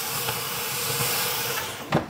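Steam hisses steadily inside a hot oven as about 20 millilitres of water from a syringe hits it during bread baking, a continuous close broadband rush with a brief louder burst near the end.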